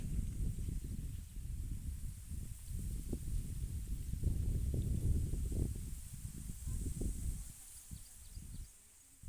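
Gusting wind roars in low, uneven surges through open crops, rising and falling with a faint airy hiss, and no voices.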